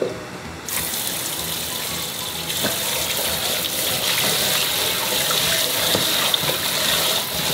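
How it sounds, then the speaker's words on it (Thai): Catfish rinsed under steadily running water from a tap, a loud continuous gushing splash close by with faint handling knocks and no talk. "เราล้างสักประมาณ 2-3 น้ำนะคะจนกว่า"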